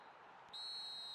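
A referee's whistle blown for half-time in the eFootball video game: one sharp, shrill, sustained tone that begins suddenly and continues to the end, faint, after a moment of crowd noise.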